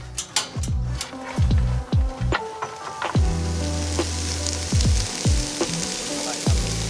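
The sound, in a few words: thinly sliced onions sautéing in butter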